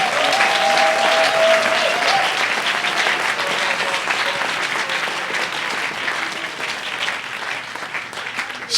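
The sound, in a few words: congregation applauding God in church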